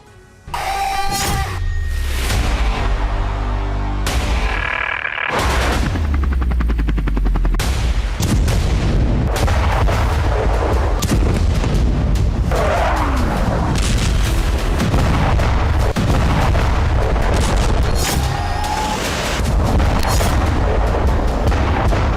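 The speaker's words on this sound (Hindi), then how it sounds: "बम का धमाका क्यों कांपा इलाका" Bomb blasts and artillery fire boom and crack in rapid succession, loud and close, with repeated heavy impacts and sharp reports over a continuous roaring din for the whole stretch.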